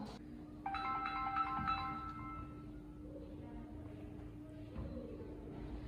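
A telephone rings once with a short electronic melodic tone over a low steady hum in a hospital ward office, followed by quiet room noise and faint talk.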